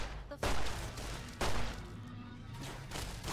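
Two heavy gunshots boom out in Fallout: New Vegas, loud and close, the first just under half a second in and the second about a second later, each trailing into rumbling ambience.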